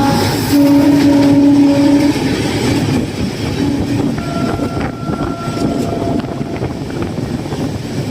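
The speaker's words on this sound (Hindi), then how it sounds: "ये जो सामने से ट्रेन आ रही है, ये है इंडिया की फर्स्ट वंदे साधन एक्सप्रेस" An Amrit Bharat (Vande Sadharan) express train on its inaugural Ayodhya–Darbhanga run rumbles steadily as it approaches, with a long loud horn blast early on and continuous wheel and rail noise throughout, no talking.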